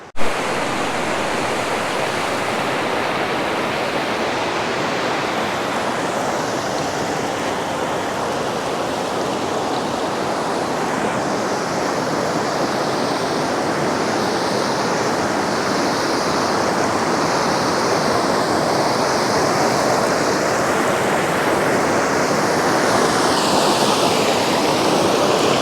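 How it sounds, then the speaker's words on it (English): Steady, loud roar of the Koiteli River rapids at Koitelinkoski, a dense broadband wash of churning water that continues unbroken throughout with no voices. "hopefully when I try to get close to the rapids I could capture the better quality sound"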